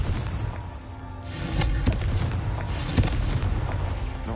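A Confringo fire-blast spell cast in the video game Hogwarts Legacy, heard as two heavy booming explosions about a second and a half apart, loud and full over a steady rumbling game background.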